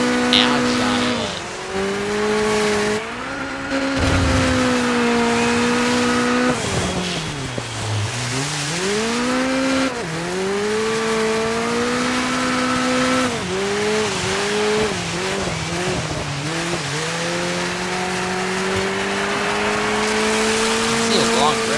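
Racing car engine in the DIRT 5 video game, a loud continuous whine rising and falling through gear changes and revs across the whole stretch, with occasional tire squeal and a voice talking over it.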